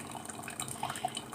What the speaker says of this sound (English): Well, today it's raining.